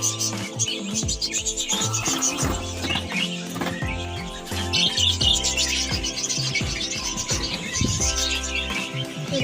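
Three pet birds, including white ones with chicks, chirp and tweet in quick, repeated bursts from a household cage. The calls are close and fairly loud over a steady tonal background.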